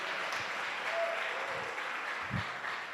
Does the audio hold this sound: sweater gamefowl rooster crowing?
no